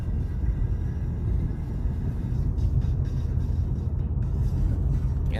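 A 2017 Honda Civic Type R drives along with a steady, deep engine and road rumble that stays even and fairly loud throughout, heard from inside the cabin.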